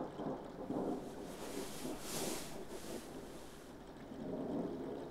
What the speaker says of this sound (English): Looks like a storm's brewing.